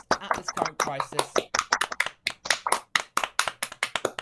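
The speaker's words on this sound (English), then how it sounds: "let's give a round of applause for everyone at this time" Hands clap repeatedly in a steady, fairly close round of applause, many separate sharp claps throughout.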